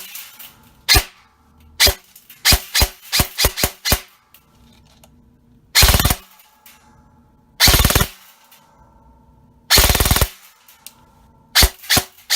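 A custom Lancer Tactical/G&G airsoft AEG, run on an 11.1 V LiPo battery and loaded with 0.20 gram BBs, fires sharp close single shots and quick bursts, with short full-auto strings between semi-auto cracks and pauses.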